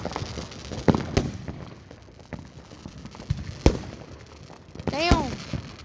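Fireworks bursting at an outdoor air show: several sharp scattered pops and bangs at moderate distance, one followed by a crackling whistle, over a low rumble of crowd noise.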